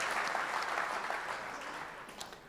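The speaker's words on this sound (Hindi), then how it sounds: "एक बार और ज़ोरदार तालियों से इस्तकबाल कीजिए इतनी हसीन शायरी का" Loud, sustained applause from a mushaira audience at a Republic Day poetry gathering in Dubai, a dense steady wash of clapping that holds strong throughout before easing slightly at the end.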